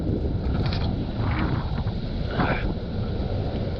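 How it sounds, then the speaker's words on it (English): Strong wind roars steadily across an exposed coastal campsite with little shelter, buffeting the microphone in a loud, continuous rush with gusting swells. "The wind is absolutely howling, and there's very little protection."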